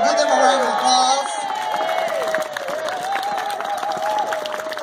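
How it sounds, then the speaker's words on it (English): A rally crowd outside the Alabama Supreme Court in Montgomery applauds, with whoops and cheering voices rising over the steady clapping, which stays loud and fairly close throughout. "Y'all give them a round of applause."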